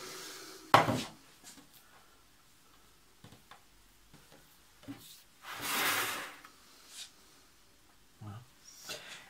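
A metal baking tray is picked up and handled in a home kitchen, giving a few sharp clattering knocks and scraping rattles spaced out over quiet stretches, close and moderately loud.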